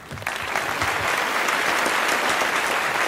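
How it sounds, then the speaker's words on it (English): Dense, steady applause from a large audience at the 2011 WAMM Awards ceremony, greeting the announcement of Apple as winner; loud, continuous clapping throughout with no break. "Big round of applause for Apple."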